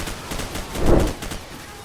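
Gunfire crackles in the video game Call of Duty 4: Modern Warfare, a short rapid burst swelling in the middle amid steady game noise.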